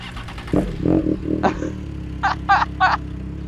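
A Triumph Trident 660 motorcycle engine cranks and catches, idling with a low rumble, followed by a few short bursts of clatter.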